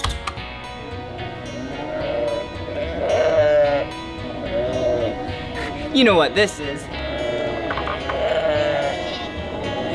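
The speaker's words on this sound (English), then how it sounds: "That was the sheep." A sheep bleats several wavering, nasal cries, played as a sound to guess in a children's educational show, mixed with an adult talking over background music.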